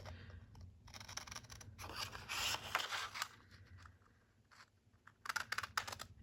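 Scissors snip a piece out of a 1939 vintage newspaper ad, giving close, crisp bursts of cutting and paper rustle in several clusters with short quiet gaps between them.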